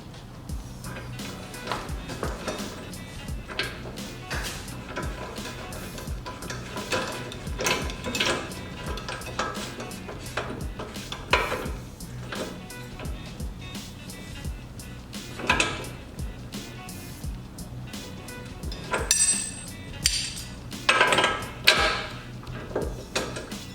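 Metallic clicks and clanks from a ratchet tightening an axle nut on a BMW E30/E36 front wheel bearing, scattered irregular taps and knocks at close range over a low workshop hum, no talking.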